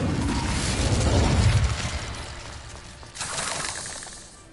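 Incendio fire spell cast in Hogwarts Legacy, a loud whooshing burst of flame that swells for over a second, fades, then flares again with a second crackling burst.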